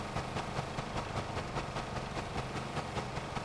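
A boat engine idles in the video game Stormworks with a steady, rhythmic chugging pulse that keeps an even beat throughout.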